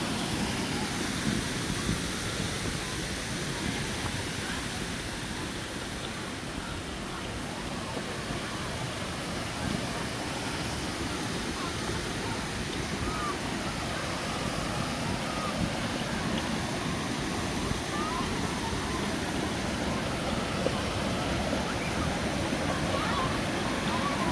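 Continuous broadband roar of Tat Ton waterfall in Chaiyaphum, Thailand, steady and enveloping, with wind buffeting the microphone throughout.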